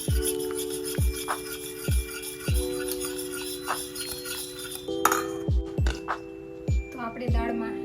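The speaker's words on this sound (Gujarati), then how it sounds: "બધી દાળને મિક્સ કરી લઈશું" A spoon stirs boiled dal in a cooking pot, giving regular clinking taps against the metal about once a second, with soft wet squishing between strikes and a steady hum underneath.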